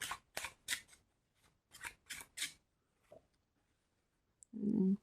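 Tarot cards drawn from a deck: a run of quick crisp card snaps and slides in two bursts, close and clear, followed by a short rustle near the end.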